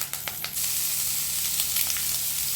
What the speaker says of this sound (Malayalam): ഇത് വെളിച്ചെണ്ണ ഒഴിച്ച് കൊടുക്കാം. കറിവേപ്പില, പച്ചമുളക് ഇട്ട് കൊടുക്കാം.